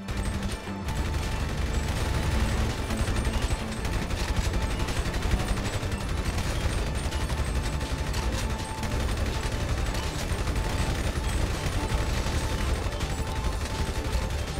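Sustained rapid gunfire in GTA Online, dense loud bursts of automatic weapons firing continuously with mechanical clatter, heard alone without talk.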